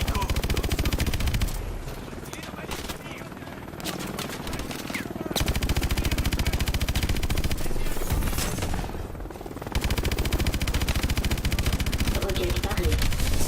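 The main cannon in the video game Call of Duty Advanced Warfare fires in long, rapid, loud bursts, breaking off twice for short pauses, with helicopter-like rumble and game voices talking beneath.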